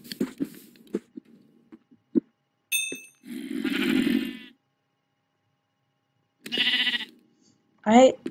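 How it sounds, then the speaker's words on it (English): Sheep bleating in the Minecraft video game, several short wavering bleats spread across the stretch with quiet gaps and small clicks between them. "I'll kill some sheep."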